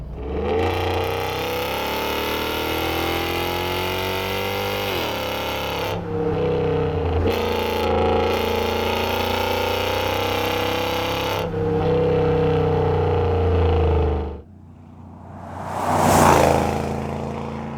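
A BMW X5 4.8iS with its V8 engine and six-speed automatic in manual mode accelerates hard. The loud, close engine drone climbs through several gear changes before it cuts off and a brief whoosh follows.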